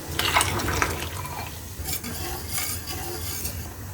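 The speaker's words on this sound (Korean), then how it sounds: "물이 끓죠." Water coming to the boil in a pot while dongchimi soup stock is prepared in a home kitchen: bubbling hiss and sizzle with faint clinks of utensils, steady and close, without talk.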